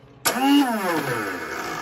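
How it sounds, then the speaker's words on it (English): Electric starter on an Ariens SS522e snowblower engages and spins the engine over with a sudden loud whir that starts abruptly, then settles into a steady, close mechanical drone with a falling pitch sweep. "when I hit this button, that gear should pull in and spin the engine over"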